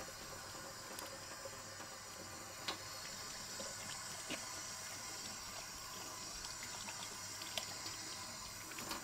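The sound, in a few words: washing hands under a running tap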